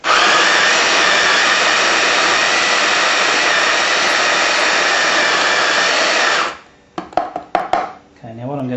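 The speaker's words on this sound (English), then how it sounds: "the first one I'm going to do is the Sunbeam grinder. Just have a listen to it." A Sunbeam grinder runs for about six and a half seconds with a loud, steady whirring buzz close by, then cuts off, leaving scattered knocks and handling clatter.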